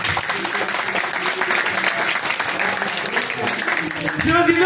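Audience applauding in a church during a sermon on the Transfiguration, steady dense clapping throughout with voices mixed in, growing slightly louder at the end.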